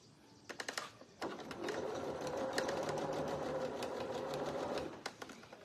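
A sewing machine stitches fabric in one sustained run of rapid, even mechanical clatter, starting after a few short taps and stopping cleanly, close and fairly quiet.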